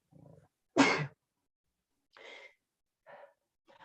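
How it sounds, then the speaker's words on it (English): One sharp, loud human sneeze bursts out after a soft breath, followed by a few quieter breathy sounds in an otherwise silent room. "I think I'm going to sneeze."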